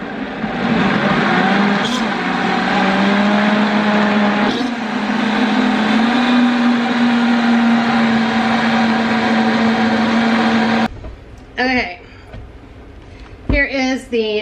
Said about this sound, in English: It is very hot, so start low on your blender and then turn it up.